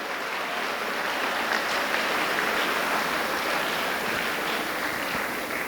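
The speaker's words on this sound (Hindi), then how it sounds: "एक बार जोरदार तालियां भगवान राम के लिए।" A school audience at a motivational poetry gathering gives loud, dense applause that holds steady for several seconds, a continuous wash of clapping with no voices above it.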